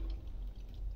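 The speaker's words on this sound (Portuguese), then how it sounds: "Vou botar água aqui." Water is poured into a pressure cooker to scald tripe for a stew, giving a brief, faint, steady splashing pour.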